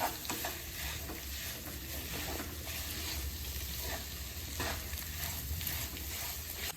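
A thick mixture of dates and mawa for sugar-free khajoor pak is stirred steadily in a hot pan, with continuous scraping and soft sizzling close by, even and unbroken throughout.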